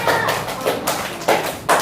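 Claps come in short bursts, loud and close, with brief pauses between them, like a small group clapping together.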